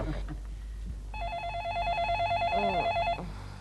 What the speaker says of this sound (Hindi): देव फोन उठाओ ना